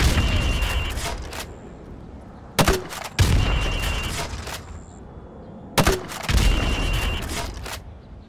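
Grenades from a launcher burst in the Modern Warfare Remastered video game, three heavy booms spaced a few seconds apart, each a sharp crack that rolls into a long fading rumble, loud and close.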